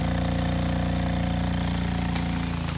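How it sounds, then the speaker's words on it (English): A tractor engine runs steadily at a constant mid-pitched throttle on a farm heading toward a woods, loud and continuous with no voices over it. "So Amanda's back in the tractor, heading over to the 6-acre woods now."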